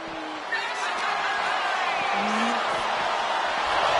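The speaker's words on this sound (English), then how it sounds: "Look at this crowd. It's insanity in here. Bedlam." A dense arena crowd roars and cheers throughout a WWE 2K26 wrestling match, a loud continuous wash of noise with scattered whoops, and a commentator talks over it.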